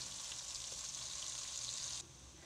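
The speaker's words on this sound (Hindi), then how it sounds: "इसे फ्राई करेंगे इसका कलर निकलने तक, सौटे करेंगे इसे" Vegetables for a mixed sabzi fry and sauté in a pan until light golden, giving a steady, even sizzle that holds for about two seconds and then drops to a quieter hiss.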